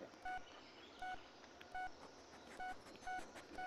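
Phone keypad tones in the horror video game Blair Witch, heard as five evenly spaced dual-tone beeps, short and clean, over a quiet hiss of background ambience.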